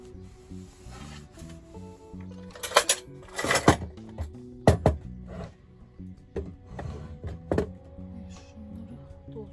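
Dishes clink and clatter in a camper van sink, with scraping, rubbing and several sharp knocks of plates and utensils, close by and irregular.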